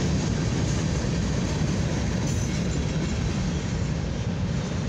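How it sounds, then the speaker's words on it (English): A westbound CFE mixed freight train rolls past at night, its last car going by as a loud, steady, continuous rumble and rail roar with no break for the whole stretch. "that was a great CFE train"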